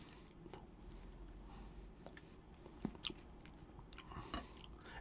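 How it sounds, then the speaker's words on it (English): Someone bites into and chews slightly cold, once-frozen durian fruit up close, making soft wet mouth sounds with a few sharper crunchy bites and a smacking burst at the end, all without talk. "Let's try our durian fruit here"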